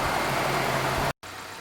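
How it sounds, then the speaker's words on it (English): A car engine idles during a transmission fluid check, a steady low hum heard close and alone, cut off by a brief silent gap near the end before the idle resumes more quietly. "the engine has now been running for 8 minutes"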